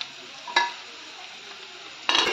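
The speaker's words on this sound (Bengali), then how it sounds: "হালকা করে একটু ভেজে নেবো।" Vegetables with onion, ginger, green chili and tomato being stirred in a frying pan, a steady soft sizzle broken by a couple of louder scraping stirs near the start and end.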